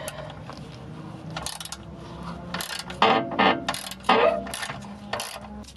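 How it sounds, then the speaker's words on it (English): A 10mm triple square socket on a ratchet unwinds a bolt during a rear sway bar install on a Golf R, giving close, irregular metallic clicks and clattering bursts that peak toward the middle, with no talk. "Use a 10mm triple N triple square socket to go ahead and unwind."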